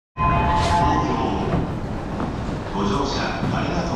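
A Yamanote Line train sits at the platform at Nishi-Nippori station in Tokyo, giving a continuous loud, close rumble and hiss of the railcar and station noise, with faint voices mixed into the busy ambience.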